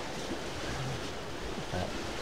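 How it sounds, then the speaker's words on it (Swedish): Strong stormy wind blows across a lakeside campsite after a night of storms, a steady broadband roar with gusting swells and no clear talk. "nu när det har stormat som det har gjort i natt så blåser ju allt"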